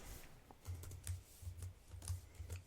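Quick, uneven keystrokes on a computer keyboard clatter in short bursts, with small pauses between runs, close up and alone while code for a Rust cryptography library is written.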